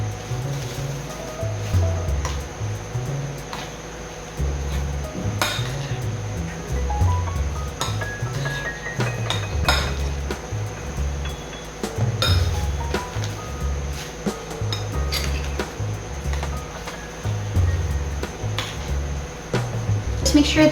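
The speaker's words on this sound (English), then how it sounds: "Just make sure that we mix everything together." Homemade kimchi ingredients are mixed in a bowl, making repeated clinks, scrapes and squelchy stirring sounds at a steady working rhythm under a faint background hum.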